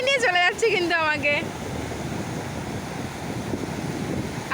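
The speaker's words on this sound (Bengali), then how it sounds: "তো বন্ধুরা দেখো কত স্পিডে কিন্তু ঢেউগুলো আসছে" Fast, strong ocean waves surge onto the beach at Digha in a steady rushing roar mixed with wind buffeting, after a brief burst of voices at the start.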